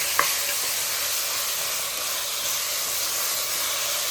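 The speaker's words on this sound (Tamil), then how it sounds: "போட்டுட்டு இதை நல்லா தக்காளி குழையிற வரைக்கும் நல்லா வதக்கணும்." Tomatoes, green chilli and ginger-garlic paste sautéing in a pan for mutton biryani, giving a steady close sizzle and hiss with a soft stir near the start and no talking.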